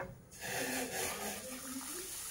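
Hot water poured into roasted semolina in a pan, a steady soft splashing hiss that starts after a brief pause and carries on quietly.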